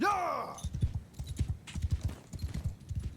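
Horse in the game Mount & Blade II: Bannerlord, opening with a short whinny and then close, rhythmic galloping hoofbeats that continue steadily for a few seconds.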